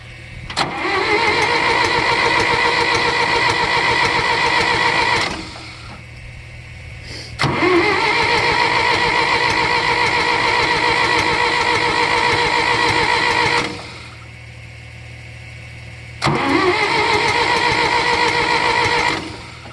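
A John Deere tractor engine cold starts three times, each start beginning with a sharp crank that settles into a loud, steady, whining idle for several seconds before cutting out, close and with no talking.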